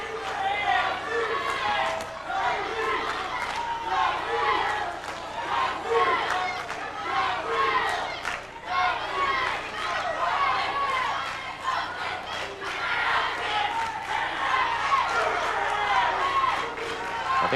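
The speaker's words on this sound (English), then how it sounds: "You've got Cung Le's supporters cheering, and then you've got Jason's supporters cheering." A 1997 kickboxing and sanshou bout draws a rowdy crowd cheering and shouting continuously, rising and falling in waves, with an announcer's voice talking over the noise.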